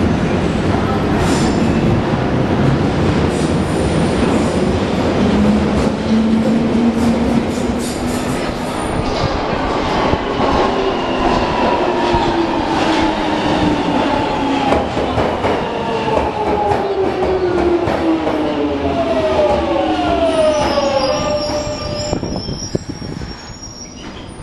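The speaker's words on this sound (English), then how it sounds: "No, the train I meant." A London Underground train rumbles loudly through a tunnel, with a continuous roar, rising and falling wheel squeals and clickety-clack over the rails, all close and sustained.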